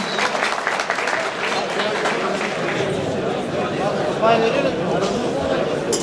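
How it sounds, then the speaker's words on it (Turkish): A crowd applauds at a traditional pigeon festival in Osmaniye, Turkey, with steady mid-level clapping continuing beneath an announcer's voice and general crowd chatter throughout. "Alkışlar cansız arkadaşlar."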